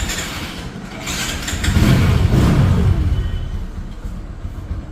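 A TVS Apache RTR 160cc motorcycle in fresh condition runs with a smooth, loud, close engine rumble that swells briefly as it revs, then settles back toward idle, with no talk.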